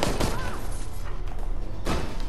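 Rapid bursts of gunfire in the video game Resident Evil Resistance crackle in quick succession, with a heavier blast near the end, loud and close against a busy background.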